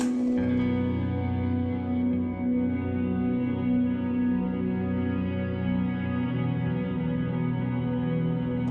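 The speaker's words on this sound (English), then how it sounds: "Got a simple reverb for when I need it. This reverb is just beautiful." A guitar runs through a reverb pedal set fully wet, with sustained chords swelling into a lush, washy tail that stays loud and steady throughout, no voices present.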